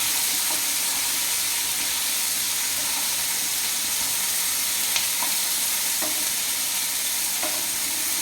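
Green chillies hitting hot oil in a pan, a steady loud sizzle and hiss throughout with faint stirring clicks, close and continuous with no talking.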